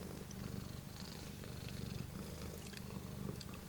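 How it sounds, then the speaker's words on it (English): A domestic cat purrs softly and very close, a steady low rumbling rhythm with no voices, continuous throughout. "See, here's the cat. I like just listening to her purr during the readings."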